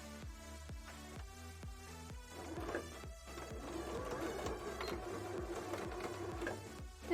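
A sewing machine stitches a jellyfish bra with a fast, steady run of rhythmic needle clicks and a motor whir, faint and close, continuing for several seconds.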